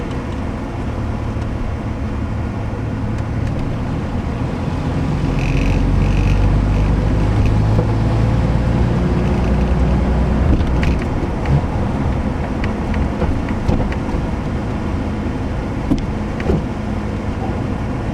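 Heater and defrost fan blowing on high inside a 1963 Rambler American on a winter drive in first gear, a loud steady rushing roar mixed with low engine rumble and small rattles, no talk.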